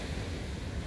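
Ocean surf rolling in along a shore, a steady low wash of waves with some wind rumble on the microphone, continuous through the moment with no talking.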